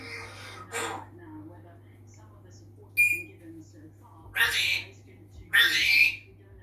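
An African grey parrot at home gives several short bursts of whistles and breathy squawks, close and fairly loud, separated by quiet pauses over a steady low hum.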